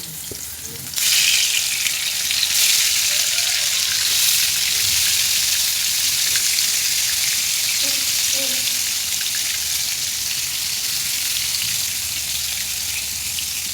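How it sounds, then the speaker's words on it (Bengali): Eggplant chops drop into hot oil and fry, a loud sudden hiss that settles into a steady, dense sizzle lasting throughout, with faint clinks underneath. "তেল গরম হয়ে গেছে, এখন চপগুলো দিয়ে দেব"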